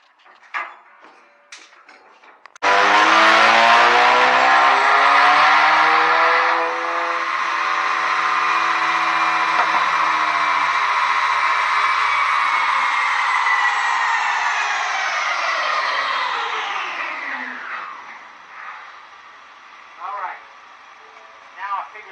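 A 2019 Ford Mustang EcoBoost with a Ford Performance tune on a dyno, engine note rising loudly and steadily through a long pull, then dropping away as it winds down.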